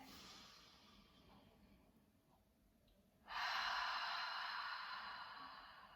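Deep breathing during a standing desk-stretch routine: a soft, faint inhale through the nose, then a louder, broad airy exhale through the mouth lasting a few seconds, heard close with no talking.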